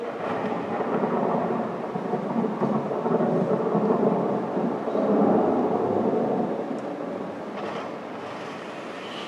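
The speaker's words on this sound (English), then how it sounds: "And it's starting to rain." Rain starting with thunder, played as a storm sound effect: a broad wash of rainfall and deep rumbling that swells in the middle and holds steady, with no talking.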